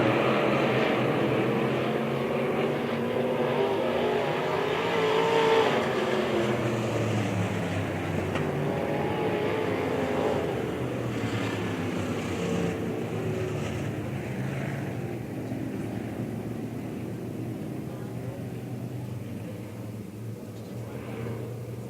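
B modified race cars lap Springfield Raceway in a Turkey Bowl heat race, a steady, loud roar of engines droning on for the whole stretch and easing slightly toward the end.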